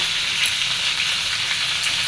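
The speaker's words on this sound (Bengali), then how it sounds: "মাছ ভেজে নিচ্ছি" Tilapia pieces and fish head fry in oil with a dense, continuous close-up sizzle and spatter, loud and unbroken.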